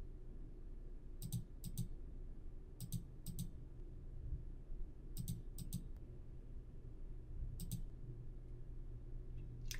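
Computer mouse clicks come in quick pairs and triplets, sharp and close, spaced over a quiet background with no talking.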